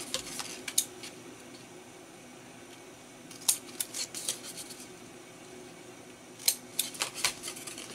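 Scissors trimming card stock for a matchbook-style mini album, heard as a few quiet, brisk snips in short clusters with pauses between them, no talking.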